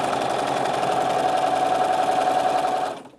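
Sewing machine stitching binding onto a quilt, a loud steady whirring hum with a fast mechanical rhythm that runs without a break for about three seconds, then stops abruptly.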